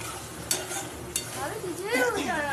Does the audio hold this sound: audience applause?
no